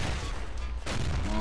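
Gunfire in the video game Guns, Gore & Cannoli, a dense burst of shots and booms filling the moment, loud and close, with a brief dip before the firing resumes.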